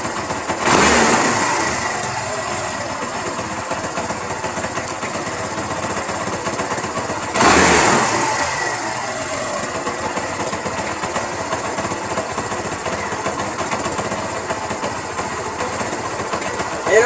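A motorcycle engine idles steadily after repair. It is blipped sharply twice, rising to a brief loud rev each time before settling back into an even, close idle.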